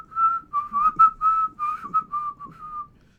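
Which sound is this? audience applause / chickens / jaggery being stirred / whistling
whistling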